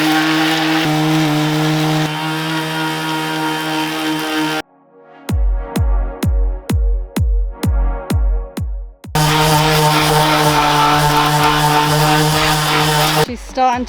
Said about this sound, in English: She's starting to be sanded down.